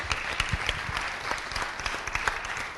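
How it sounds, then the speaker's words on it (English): Crowd applause at a city council meeting honoring back-to-back champion coaches, brisk continuous clapping from a room full of people, moderately loud and unbroken. "they all deserve a round of applause for sure"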